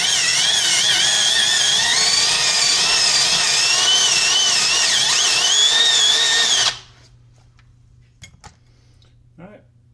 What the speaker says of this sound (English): Once we get to the full depth of the Forstner, we're going to want to ream it out a little bit.